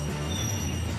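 A railway work train rolls slowly while pulling rail off onto the ground, giving a steady low rumble with faint metallic ringing. It sounds fairly distant and moderately quiet, and there is no talk.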